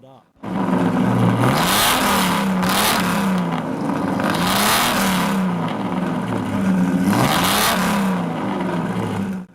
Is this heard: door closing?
no